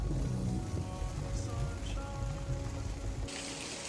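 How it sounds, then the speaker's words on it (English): Steady rain patters on surfaces nearby, a continuous soft wash of drops with a slight rise in hiss toward the end. "it's raining pretty good now"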